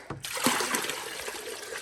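Water pours and splashes steadily into a hydroponic garden bucket, a close, continuous trickling stream that starts with a sharper splash and keeps running without talk.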